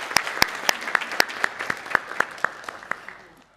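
A few people in a Korean church service clap to welcome newcomers, about a dozen distinct, evenly spaced claps in a steady rhythm that fade out near the end, sparse and fairly close.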